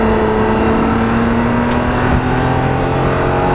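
Datsun 240Z engine revving loudly and steadily up close, a continuous droning roar with a low hum beneath, with no talk over it.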